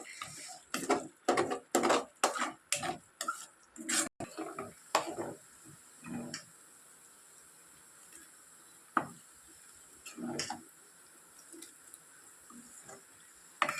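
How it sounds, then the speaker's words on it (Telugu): Prawn pickle being stirred and fried in groundnut oil, with a quick run of loud scraping and clinking stirs at the start, then quieter occasional scrapes over a soft sizzle. "మొత్తం కలిసేలా కలుపుకొని వీటిని ఇంకొంచెంసేపు వేయించుకోవాలన్నమాట"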